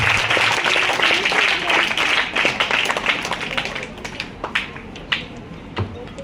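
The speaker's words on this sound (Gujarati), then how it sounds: "વાહ, તાળીઓથી 3 તાળી સાથે વધાવીએ." Audience applause at a school celebration of girls' education and school enrolment, honouring three girls: dense sustained clapping from a crowd that thins into scattered individual claps toward the end.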